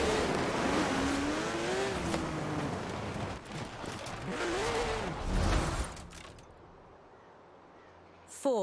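A Ford Escort's engine revs and climbs through gears in Forza Horizon 4, loud and close with rising and falling pitch sweeps, then cuts out abruptly into quiet near the end.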